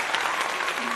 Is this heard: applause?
yes